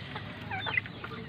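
Young chicks and chickens on a gamefowl breeding farm in hot weather, producing soft overlapping clucks and peeps at close range against a steady low background hum.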